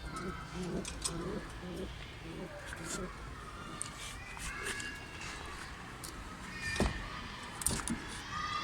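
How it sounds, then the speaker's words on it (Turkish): Pigeons coo softly in low, throaty phrases inside a coop against a steady background hum, with a few sharper clatters and shuffling noises near the end. "Burada kuş bol."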